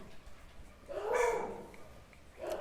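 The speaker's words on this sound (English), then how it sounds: "sorry, my dogs are here. We have dogs there. We have dogs everywhere." Dogs at home giving a single short bark or yelp at moderate distance, with a fainter second yelp after it over quiet room tone.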